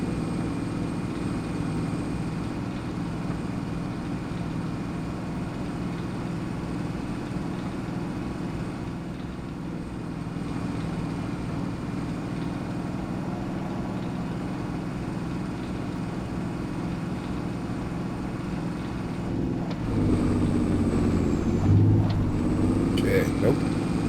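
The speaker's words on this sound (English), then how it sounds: "the tractor doesn't want to turn since the plow is in the ground" A tractor pulling a plow idles and labors at a steady low drone, close and continuous. The engine note shifts and grows louder near the end.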